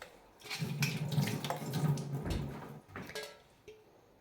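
Running tap water splashes into a sink as a pan is rinsed after scrubbing with lemon and pink salt, steady and close with a few clinks and shifts in the flow, then the water stops.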